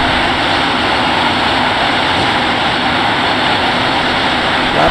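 Loud, steady roar of an F-15's jet engines at full power on the takeoff roll during touch-and-go landing practice at Monterey, a dense unbroken wall of noise filling the whole stretch with no voices.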